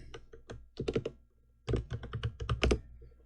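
Computer keyboard typing in two quick bursts of close, crisp keystrokes with a short pause between them.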